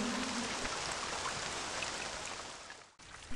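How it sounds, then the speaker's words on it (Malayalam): Steady rain falling outdoors, a dense even hiss of drops on surfaces that holds nearly constant before dipping into a brief hush near the end, with no voices. "പുറത്ത് മഴയുടെ ആരവം കേട്ടാണ് ഞാൻ ജാലകം തുറന്നത്"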